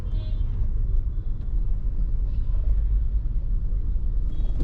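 A car engine rumbles low and steady in slow, heavy traffic, with a mild rise as it revs and then eases as the clutch is released, heard from inside the car.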